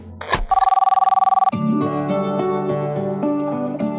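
A telephone bell on a crime drama set rings in a rapid, buzzing burst for about one second, loud and close, before music swells in and carries on.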